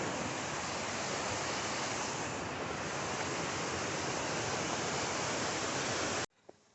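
A waterfall on the Appalachian Trail in Connecticut roars in a dense, unbroken rush of white noise for several seconds, then cuts off abruptly into near silence.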